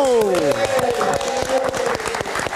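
An audience at a live music talk show claps for a musical guest, scattered crisp hand claps heard beneath a sustained musical chord and voices, the applause fairly close and uneven.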